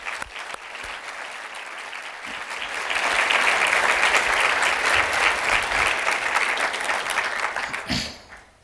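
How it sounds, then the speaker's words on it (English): University address audience applauding students: a large hall of steady clapping that swells louder midway, holds, then tapers off quickly near the end. "Please join me in applauding our students"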